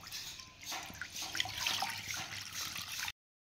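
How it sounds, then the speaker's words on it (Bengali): Water is poured steadily into a metal kadai (wok) on the stove, a close, continuous splashing trickle that runs about three seconds and then stops abruptly. "এবার আমি কড়াইয়ের মধ্যে জলটা দিয়ে দেব।"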